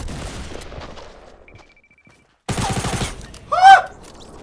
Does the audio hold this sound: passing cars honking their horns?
no